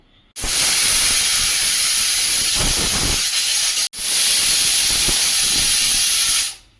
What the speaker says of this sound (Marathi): मध्यम गॅसवर 3 शिट्ट्या काढून घेऊ।